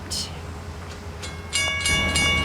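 A steam locomotive rumbles steadily with hissing bursts, then a sustained whistle sounds loudly toward the end over the heavy engine noise.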